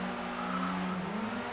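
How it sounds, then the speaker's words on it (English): A touring car spins its wheels at Oulton Park in the ToCA World Touring Cars racing game: a high, strained engine drone with tyre squeal sliding in pitch, loud and continuous. "Oh, revs too high, I had a bit of wheel spin."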